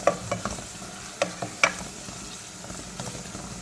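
Onions and mutton liver sauté in a pan with a steady close sizzle, broken by several sharp clinks and scrapes of a spoon stirring against the metal.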